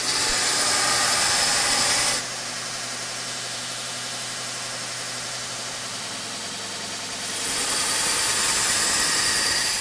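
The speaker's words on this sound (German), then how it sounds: "schleift Jonathan weiter an der Schneide." Forged knife blade having its edge ground after cooling, a loud steady abrasive whir for about two seconds, easing off to a quieter hum, then returning strongly near the end.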